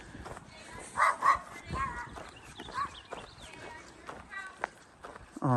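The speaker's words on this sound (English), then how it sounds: "there's a ferocious puppy right there" A small puppy barks outdoors on a hiking trail, a few sharp yaps spaced among footsteps and scuffling, with talk partly covering them.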